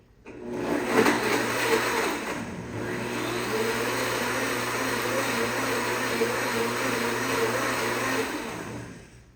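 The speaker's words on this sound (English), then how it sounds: "Where did you find your blender?" A kitchen blender whirs at high speed mixing a creamy astragalus drink, starting with a rising surge then holding a loud, steady motor drone for several seconds before winding down.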